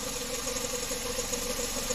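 The engine of a Suzuki DA64W non-turbo minivan with a three-speed automatic idles steadily after starting following earlier starting trouble. The idle is a faint, even hum with a light rattle, heard alone.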